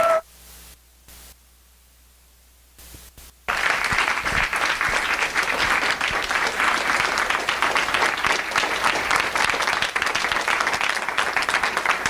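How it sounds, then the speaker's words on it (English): After a few seconds of near silence with faint static, applause from a Liberty Summit audience for speaker Igor Birman breaks out and continues as loud, sustained clapping to the end. "one more round of applause for Igor Birman"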